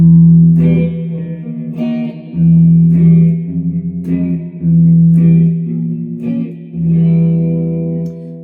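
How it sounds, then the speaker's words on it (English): Distorted electric guitar strikes a series of dark, heavy tritone chords in a slow rhythm, each ringing out with reverb before the next. "You learn that and you have one evil, ominous sound on guitar"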